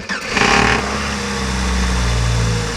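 A junk car's engine cranks and catches after a jump start, a brief starter whir giving way to a steady, close idle that hums on alone.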